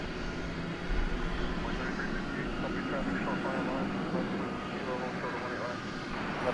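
An American Airlines jet rolls for takeoff at Dallas Fort Worth at night, a steady broadband engine roar holding at moderate distance, with radio voices talking faintly over it.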